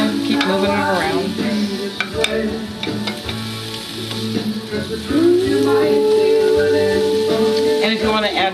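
Pork chops fry in margarine or butter in a pan, a loud continuous sizzle with occasional stirring and scraping as the meat is moved around, while a person talks over it.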